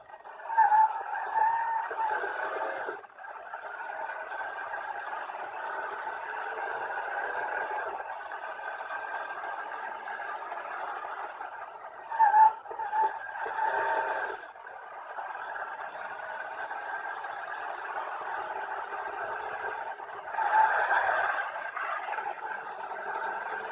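Steady engine drone of a car driving in the 1930s-era game Mafia, a continuous mid-pitched hum with a few brief swells and dips, heard alone without talk.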